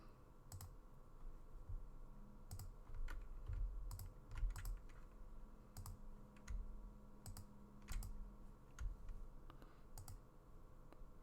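Computer keyboard keys pressed in bursts of quick taps with pauses between, steady and close, while modelling a classic car in Blender 3D; no voices.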